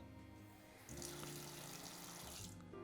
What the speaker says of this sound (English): Water will come out as well.